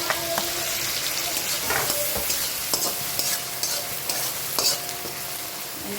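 Chopped onion and garlic frying in a large kadhai, a steady broadband sizzle with scattered stirring clicks and scrapes throughout, close and fairly loud, no voices.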